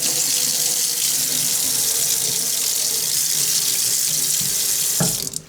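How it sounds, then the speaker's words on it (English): An aluminium casting is rinsed under a running tap, a steady, loud, close rush of water into a sink that continues without a break and then ends abruptly near the finish. "but I'll give that another rinse."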